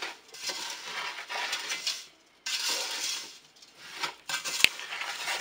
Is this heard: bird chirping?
no